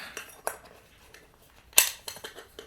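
A lid goes onto a compact metal camping cook kit with a few light clinks and scrapes, one sharper metallic clack near the end, close and quiet with no talking.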